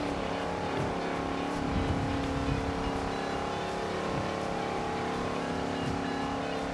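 Steady car engine drone while driving in the Forza Horizon 2 racing game, a continuous loud hum holding at high speed with slight swells and faint tire noise, no talking.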